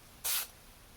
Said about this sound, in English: so we're just gonna spray it on.